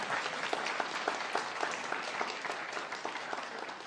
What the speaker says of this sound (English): go ahead, round of applause, that's awesome